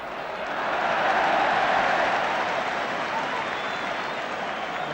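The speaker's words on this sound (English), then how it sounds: "The crowd now willing to cheer at every move." Crowd at a 1973 football match roars in a steady, dense wash of cheering and applause, swelling early and holding loud throughout.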